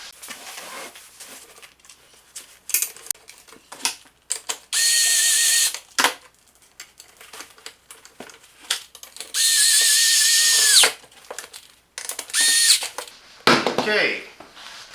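A power drill drives screws into a racing-style Livarno Home gaming chair, with two sustained high whirring bursts of several seconds each and ratcheting clicks, up close, amid handling noises and a brief voice near the end.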